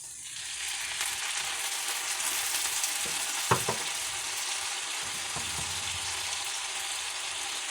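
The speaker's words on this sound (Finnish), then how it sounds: "Sitten mä lisään sinne vähän vettä." Onions frying in a pan hiss and sizzle steadily after a little water is added, with a few clinks and scrapes of stirring partway through, close and continuous.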